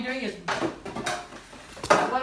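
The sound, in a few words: tongs putting corn into a stock pot of boiling water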